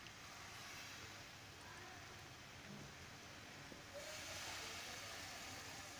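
Bread halwa with cream sizzles in ghee in a pan, a steady faint frying hiss that runs unbroken and grows slightly brighter partway through.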